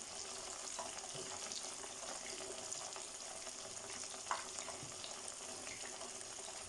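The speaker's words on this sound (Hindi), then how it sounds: "चिकन पीसों के ऊपर मैं मसाला लगा लेती हूँ और इनको भी साथ ही हम फ्राई कर लेते हैं।" Masala-coated chicken pieces fry in hot oil with a steady, moderate crackling hiss, broken by one brief clink near the middle, and no voices.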